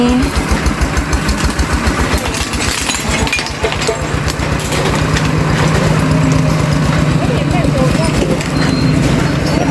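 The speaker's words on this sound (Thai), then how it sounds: "ไปแล้วค่ะรถบรรทุกไปแล้ว เร่งเครื่องหน่อยค่ะเร่งเครื่องหน่อย" A truck engine idles and revs at a Thai village site clearing, its rhythmic diesel chugging loud and close, with faint clinks and voices mixed in.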